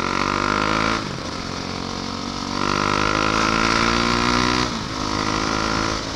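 A 400cc motorcycle engine drones steadily and loudly while riding, easing off briefly twice before pulling back up, on a chill ride toward Calauan, Laguna.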